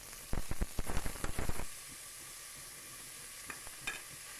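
Onion, green chilli and curry leaves sauté in oil, with a burst of rapid stirring clatter and crackle over the first second and a half, then a quiet low sizzle with a couple of faint clicks.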